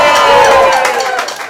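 Audience at a charity concert cheering and shouting, a loud close crowd roar that holds steady and then begins to fade.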